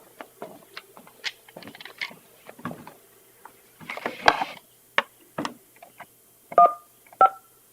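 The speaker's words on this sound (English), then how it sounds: "Do you want to dial, please?" Telephone keypad dialing tones sound on a conference line during a county supervisors' meeting: a few short, clear beeps near the end, after scattered soft clicks and handling noises, with no talk.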